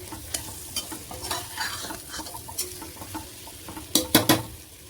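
Chickpeas and masala being sautéed in a pan for a chickpea biryani: a steady sizzle runs throughout while a spoon scrapes and clinks against the pan in irregular strokes, with a louder cluster of scrapes near the end.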